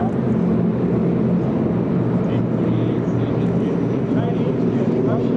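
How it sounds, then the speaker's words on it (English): Red Star warbird training aircraft flying at EAA AirVenture, a steady continuous engine drone held at an even level throughout, with crowd voices mixed in underneath. "Chinese and Russian coastal training aircraft."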